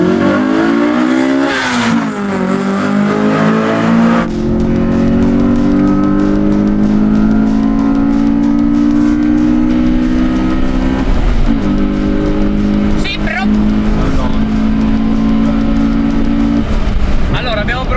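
A Honda Civic engine revs and pulls through the gears as the car drives and accelerates, its tone rising with each gear, loud and close from inside the cabin while people talk.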